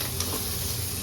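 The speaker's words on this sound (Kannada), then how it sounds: "ಈಗ ನಾನು ಫ್ರೈ ಮಾಡ್ಕೊತಾ ಇರೋಂಥ ಮಸಾಲೆ ಎಲ್ಲ" Masala spices frying in a pan for chicken sambar give a steady, close sizzle with faint stirring, loud and continuous with no voices.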